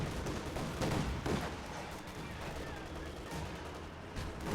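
In Company of Heroes 2, a German mortar and an infantry gun fire amid a faint, distant battle. Muffled booms and crackling shots blend into a constant low rumble.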